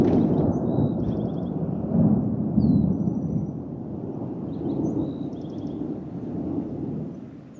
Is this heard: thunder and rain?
yes